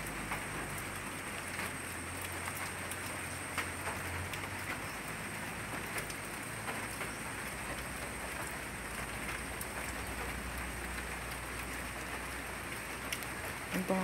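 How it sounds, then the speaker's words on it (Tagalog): Steady rain falling outdoors near a garden plot, a continuous dense hiss of drops on surfaces lasting throughout, even and moderately loud with no voices. "Umuulan na naman po dito."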